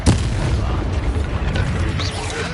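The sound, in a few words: Expelliarmus spell cast in Hogwarts Legacy video game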